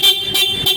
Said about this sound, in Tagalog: malakas ang kanyang busina